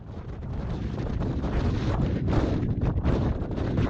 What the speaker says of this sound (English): And it's a bit breezy.